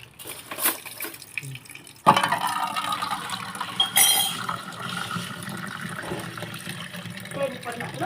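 Water runs from a tap into a container, starting abruptly partway through and then pouring steadily with a hollow splash and a clink, while people talk nearby.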